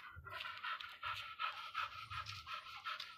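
A Labrador dog panting rapidly and rhythmically at close range, a steady run of quick breathy huffs with no talk.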